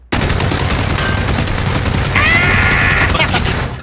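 Suppressed handgun fire rattles in a rapid, loud burst within a video game shootout, continuous close shots over several seconds with a brief ringing tone in the middle.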